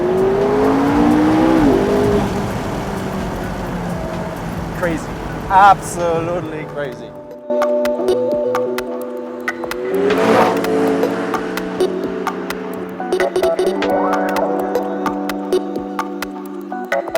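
A McLaren MP4-12C's 3.8-liter twin-turbo V8 revs loudly and repeatedly, its pitch climbing and falling through the gears, with someone talking excitedly over and between the engine bursts.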